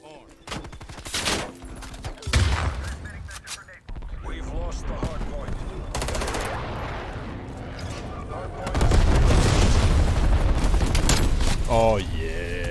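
Automatic Streetsweeper shotgun in Call of Duty Cold War fired in repeated loud bursts and rapid sustained volleys, with a heavy stretch of continuous fire near the end, mixed with other game sounds.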